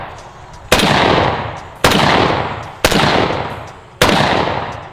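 Four loud, sharp rifle shots ring out from a brand new short-barrel M14 mini, evenly spaced about a second apart, each trailing off in a long, echoing decay.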